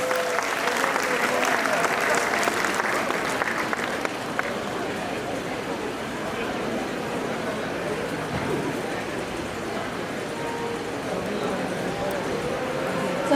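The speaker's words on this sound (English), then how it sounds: "Big round of applause." Sustained applause from an audience at the inauguration of the Resonance 2025 festival, a steady dense roar of clapping that is heavier in the first few seconds, then continues evenly with voices mixed in.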